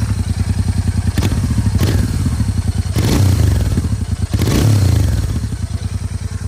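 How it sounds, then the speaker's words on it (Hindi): Royal Enfield Continental GT motorcycle on its stock silencer, idling close by with a steady thumping exhaust beat and a few brief throttle blips that rise and fall, with no speech. "तो एक बार सबसे पहले आपको मैं जीटी की साउंड सुनाता हूँ"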